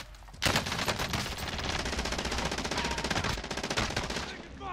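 Sustained machine gun fire from an MG82 in a battle royale video game, a dense rapid burst running nearly five seconds at close range and high volume, with a brief quiet lead-in.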